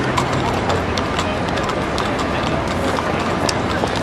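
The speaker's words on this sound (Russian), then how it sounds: "А вот и конная полиция." Mounted police horses clip-clopping through Times Square, New York, a steady patter of hoofbeats amid busy street noise, with people talking nearby.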